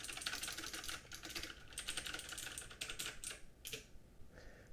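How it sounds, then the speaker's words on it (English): Quick, steady typing on a Thermaltake Tt eSports Poseidon Z RGB budget mechanical keyboard with Kailh blue switches, a close, crisp run of clicky keystrokes with no talking. "This is the Poseidon Z RGB from TT Sports. So this has Kale blue switches in it"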